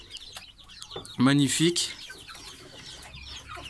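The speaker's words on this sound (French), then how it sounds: "Donc les deux poules et le coq." Two hens and a young rooster cluck together at close range, a short burst of harmonic calls rising over quiet farmyard background, while a person speaks briefly nearby.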